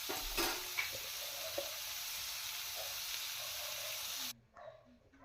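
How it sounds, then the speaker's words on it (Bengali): Vegetables sauté with a little salt in a pan for khichuri, giving a steady, soft sizzle with faint stirring scrapes that cuts off abruptly near the end. "এরপর এর মধ্যে অল্প পরিমাণ লবণ দিয়ে ভালো করে কষে নিচ্ছি।"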